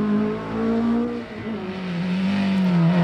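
A Ford Escort rally car drives hard on a stage of the 1997 Wexford Stages Rally, its engine holding a steady high drone that dips briefly and then climbs again as it revs.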